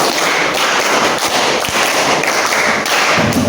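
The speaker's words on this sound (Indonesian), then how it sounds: "Masih ada yang menunggu. 2 kali tepuk 5." Students in a school class clap in unison to a counted rhythm, a loud, dense run of overlapping hand claps with a few sharper accents, no talking over it.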